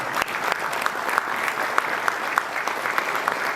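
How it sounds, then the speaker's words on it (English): An audience at a business event applauds for a few seconds, a dense, steady round of clapping from a crowd with sharper individual claps standing out near the front. "Please give him a round of applause once more."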